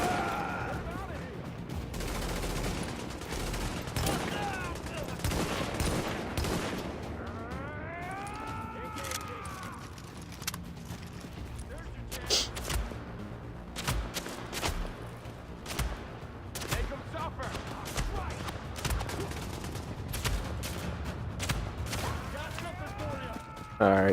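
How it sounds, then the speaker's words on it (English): Pistol shots in a shooter video game ring out as sharp, loud bursts scattered across the stretch. They are mixed with other game effects, rising whines and background clatter, with no clear talk. "I'm gonna shoot him with a pistol."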